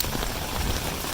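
Heavy rain from a thunderstorm in Plovdiv pours steadily onto surfaces, a dense, even wash of close hiss with no breaks.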